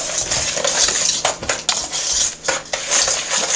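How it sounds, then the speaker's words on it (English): Sugars and cocoa being stirred together in a bowl, a loud, close, continuous gritty scraping of a utensil against the bowl with repeated clinks and brief pauses between strokes. "we're going to blend these up real good"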